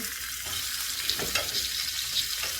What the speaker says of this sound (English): once you get that nice little brown, crusty sear, again, like I said, you can continue to take that butter and spoon the butter over them